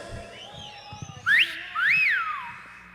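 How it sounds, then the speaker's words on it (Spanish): Men in a crowd at a live cumbia concert give two loud, sharp whistles that rise and fall one after another, with fainter whistling and scattered background noise around them. "El chiflido de los hombres."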